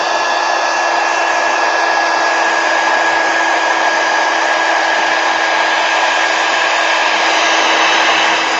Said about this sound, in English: Let me hit it with a heat gun before I goof something up really bad.